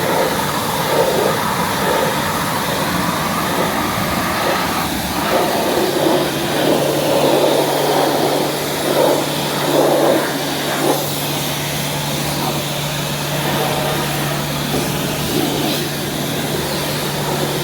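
A 220-volt professional pressure car wash machine spraying a car: a steady, loud, broadband hiss with a constant motor hum underneath, continuous throughout and close by.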